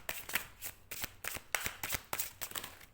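Tarot cards shuffled by hand in quick riffling bursts, a crisp, close, rhythmic flutter of card edges repeating about every half second.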